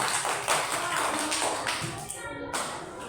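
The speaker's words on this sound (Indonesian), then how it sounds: "Tepuk tangan untuk Mas Imron" Classroom applause for a pupil at an elementary school, a dense burst of many small hands clapping together, fairly loud and steady for about three seconds with some children's voices mixed in.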